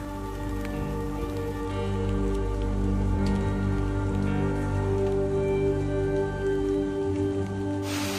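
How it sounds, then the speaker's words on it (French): Heavy rain pours steadily over Madagascar jungle, a dense, even hiss of drops on leaves and surfaces that continues unbroken throughout, with a low tonal drone underneath. "Ah, c'est immense la pluie."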